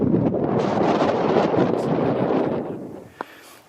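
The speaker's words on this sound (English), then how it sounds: "So I'm 500 metres up here, and it's a bit windy." Strong wind on a hill summit 500 metres up buffets the microphone with a loud, roaring rumble that eases off toward the end, followed by a brief knock.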